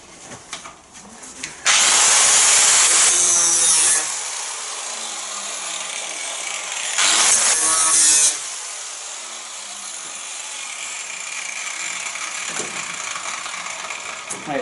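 Power tool cutting the front panel off a classic Austin Mini during restoration, with two loud harsh bursts of metal cutting lasting a few seconds each, separated by quieter handling clatter and rattles in a workshop.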